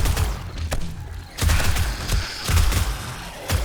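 SMG fire in 7 Days to Die during a day 70 horde, loud bursts of rapid shots with heavy low thumps, coming in several short volleys with brief pauses between.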